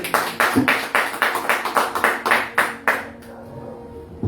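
A steady burst of rhythmic hand clapping at a church thanksgiving service, about a dozen sharp claps in even beats, then it stops and leaves quiet room tone.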